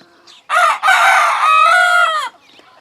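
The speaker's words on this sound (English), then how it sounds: "Cock-a-doodle-doo!" A rooster crows loudly and close in a garden setting, one long cock-a-doodle-doo with a short break after the opening note, then quiet.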